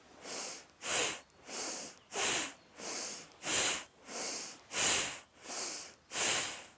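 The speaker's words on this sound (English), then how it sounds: "So the Bhastrika breath looks like this. You just entirely breathe through your nose, in and out, moving the belly." Rapid Bhastrika yoga breathing, forced in and out through the nose with the belly pumping: about ten strong, evenly spaced breathy bursts in a steady rhythm, close and clear with no talking.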